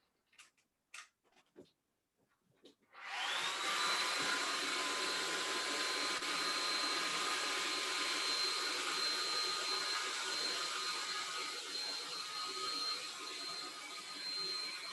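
After a few faint taps, a hair dryer switches on and blows with a steady, loud, close whooshing hiss that holds evenly to the end, with no one speaking.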